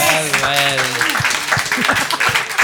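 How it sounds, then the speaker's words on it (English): Audience applause breaks out after a voice speaks at the start, a burst of many hands clapping that carries on steadily to the end, loud and close. "Big round of applause."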